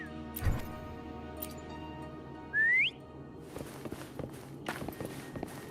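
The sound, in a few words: whistling in a video game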